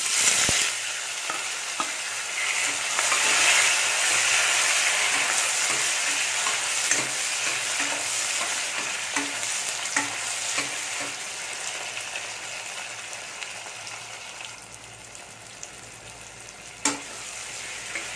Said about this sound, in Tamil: வெங்காயம் தக்காளி இஞ்சி எல்லாத்தையுமே ஒன்றாவே போட்டு வதக்கிக்கலாம்